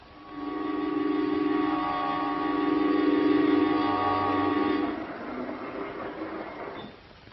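A science-fiction spaceship roars steadily as it slows to land at a spaceport, a loud sustained mechanical rumble with whining tones, then fades into a softer noisy hiss.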